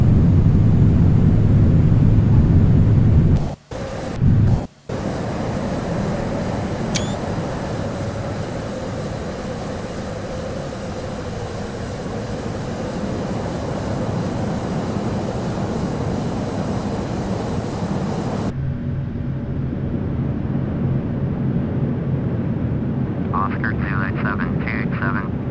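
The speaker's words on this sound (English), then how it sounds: "Reverse thrust set." Airbus A321 in Flight Simulator X roaring with reverse thrust on landing, a loud broadband engine rush that holds steady after a brief dropout, then cuts to a quieter hum with faint beeps near the end.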